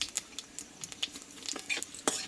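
Whole spices, bay leaf, dried chilli, cumin seeds and cardamom, crackle in hot oil as sharp, irregular pops and light spattering over a quiet background, close to the pan.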